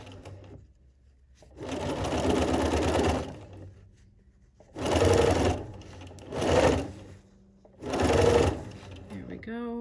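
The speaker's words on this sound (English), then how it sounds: "Do a few stitches." A Bernina sewing machine stitches cutwork placemats in four distinct bursts, one long run followed by three shorter ones, with quiet gaps between them.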